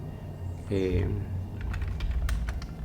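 Keys clack on a computer keyboard in a quick burst of close taps after a short voiced sound, with a low hum running underneath.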